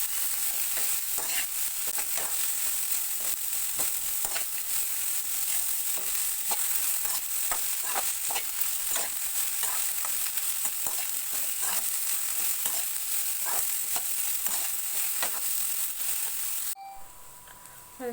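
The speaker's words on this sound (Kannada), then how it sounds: "ಅಲ್ಲಿವರೆಗೂ ಹಿಂಗೇನೆ ಫ್ರೈ ಮಾಡ್ಕೋತಾ ಇರಬೇಕು." Bitter gourd pieces being stir-fried in a pan for a curry, a steady loud sizzle with repeated scraping strokes of a spatula throughout, dropping away abruptly near the end.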